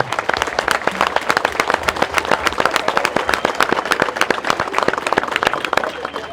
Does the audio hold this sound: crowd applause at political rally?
yes